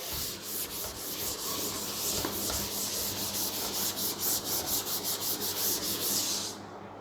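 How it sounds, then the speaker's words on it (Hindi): A board being wiped or rubbed clean of writing, a steady scratchy rubbing with rhythmic back-and-forth strokes that runs about six seconds, close and clear, then stops. "मैं इसको रब कर रहा हूँ साइड को"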